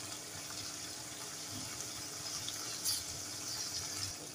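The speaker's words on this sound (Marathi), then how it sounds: "त्याच्यामध्ये थोडं पाणी घालूया," Water runs briefly from a tap or container into a spoonful of cornflour in a home kitchen, making a soft, steady trickling hiss. The sound stays faint and continuous, with no talking.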